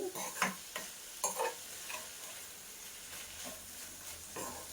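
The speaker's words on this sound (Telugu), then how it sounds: "కొంచెం వేసుకుని నీట్గా కలిపేసుకుంటున్నాను" Amaranth leaves stir-fried with a little salt in a pan, mixed with a few quick scraping strokes at first, then a quiet, faint sizzle continuing underneath.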